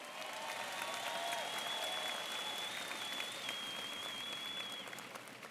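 Audience applause at a school district convocation, sustained crowd clapping heard from a distance, with a high whistle or tone running over it before it tapers at the end.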